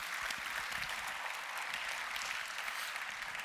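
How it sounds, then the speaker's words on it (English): Steady applause from a hackathon audience at a startup event, continuous dense clapping at moderate distance filling the whole stretch with no pauses. "this is your applause"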